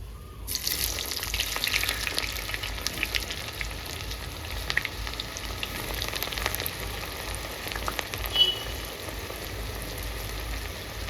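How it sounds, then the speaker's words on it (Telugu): Onions frying in a pan for a chicken bortha, a steady dense sizzle and crackle running throughout at moderate level with no talk. "ఉల్లిగడ్డ మంచిగా గోల్డెన్ కలర్ వచ్చేంత వరకు ఫ్రై చేసుకోవాలి"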